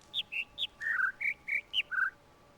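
Bird song in the video game The Witness: a series of about nine short, bright whistled chirps in an uneven rhythm, each a quick note of varying pitch, clear and close over faint background hum.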